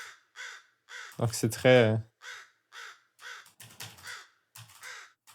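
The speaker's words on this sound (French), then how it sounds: "pour les corbeaux, c'est juste les sons dry que j'ai mis ici" Dry, reverb-free crow caws placed around a video game map, two or three harsh nearby caws bunched in the middle, with someone speaking French before and after them.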